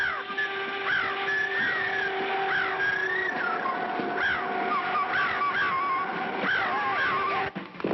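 Giant bird in a Clutch Cargo cartoon gives repeated harsh, crow-like cawing calls over a busy soundtrack, several rising squawks spread through the scene.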